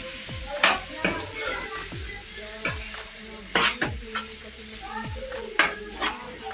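Mushroom curry masala with coriander powder being stirred in a pan, a utensil scraping and clinking against the metal in repeated strokes about every second, close and moderately loud with no talk.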